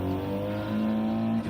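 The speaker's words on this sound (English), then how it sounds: "Just let me know what the engine sound and audio is like." A race car engine in a racing video game holds a steady high-pitched drone at constant revs, loud and close, with a brief dip just before the end.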